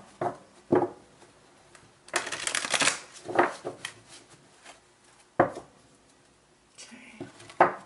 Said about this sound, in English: Last shuffle here.